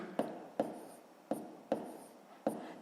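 Pen strokes on paper while working a sixth-grade math exercise by hand, five short scratchy marks spaced irregularly, each with a quick attack and soft fading tail, close and quiet with no talk.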